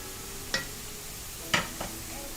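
Chicken and carrots stir-fried for chow mein in a pan, a faint steady sizzle with two or three brief scraping clinks of a spatula, heard close.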